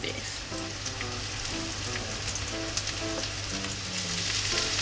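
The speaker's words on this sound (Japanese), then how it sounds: "ちくわとあとキノコ類もまとめてパーッと入れちゃいます。 で、最初あんまり触らずに少しだけね焦げ目をつけてあげてください。" Chikuwa and mushrooms stir-frying over medium-high heat in a pan, giving a steady, close sizzle with light crackles throughout and no talk.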